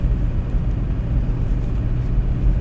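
A Nissan Note cruising at 70 km/h fills the cabin with a steady, loud low rumble of road and engine noise, unbroken and with no talking.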